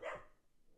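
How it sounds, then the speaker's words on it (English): A single short dog bark, faint and somewhat distant, fading into quiet room tone. "I do apologise if you can hear my dog in the background."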